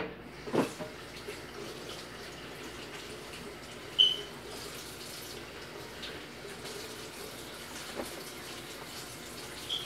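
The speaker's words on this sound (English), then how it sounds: "rinse your hands off, all the meat off your hand, and then go in with soap" A kitchen tap runs steadily as someone rinses raw meatball mixture off their hands at the sink, a soft, faint wash of water with a few small splashes and clinks.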